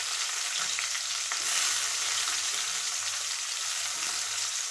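An onion fries in a pan for an Uttara Karnataka fenugreek and spinach dish, giving a steady crackling sizzle throughout with occasional soft stirring scrapes, no voices.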